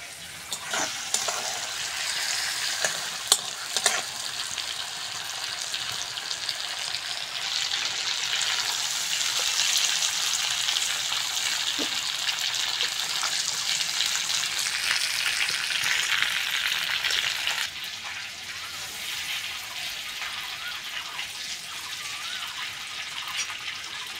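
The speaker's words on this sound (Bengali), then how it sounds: "চিংড়িটা ভালো করে ভেজে নিয়েছি, এবার তুলে নেব" Shrimp frying in oil in a pan for a prawn and vegetable chorchori, a steady broadband sizzle with a few sharp stirring clicks early on, then a quieter simmering hiss near the end, no talking.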